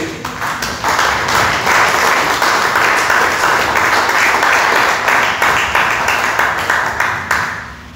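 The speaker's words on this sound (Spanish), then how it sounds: "Den un fuerte aplauso a Rey" Congregation in a church breaks into loud, sustained applause that swells after a second and holds steady before tapering off near the end, with no talking over it.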